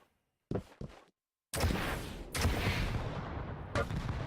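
Rocket launcher blasts in the arena shooter Quake Champions during a competitive match: a couple of short sharp bursts, a pause, then a loud sustained roar of explosions with further sharp hits layered through it.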